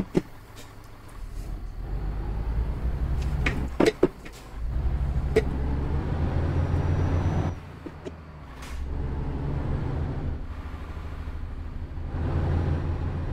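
A truck in Euro Truck Simulator 2 driving toward a parking area, a steady low engine drone with a few clicks and hisses, briefly dropping out before the hum resumes, with no talk.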